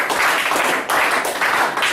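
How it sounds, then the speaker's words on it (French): A church congregation at a French-language service claps in a dense, continuous burst of applause that stays fairly loud and steady for a couple of seconds, with no speech over it. "Acclamation pour le Seigneur"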